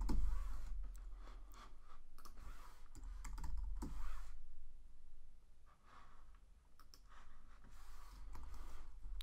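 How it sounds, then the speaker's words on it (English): Someone types a single word on a computer keyboard while working in InDesign. A soft, close patter of keystrokes and clicks is heard over faint breathing, with no speech. "I'm just gonna type in the word fold"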